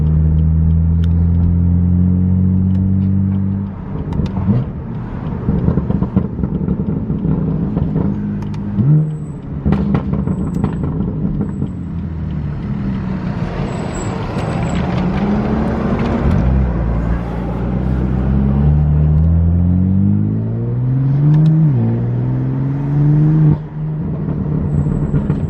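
Tuned BMW F80 M3 engine heard from inside the car while driving with the exhaust valves closed, a deep droning hum rising and falling through gear changes and repeated accelerations, loud and continuous throughout.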